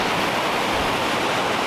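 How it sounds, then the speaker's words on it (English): Steady, dense rushing of a waterfall near Telluride, a constant roar with no breaks and no voices. "Waterfalls."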